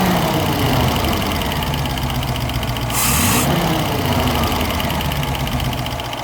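1972 Range Rover engine running on carburetors with a fault that makes it bog down, idling steadily with a brief dip and a short hiss of air partway through.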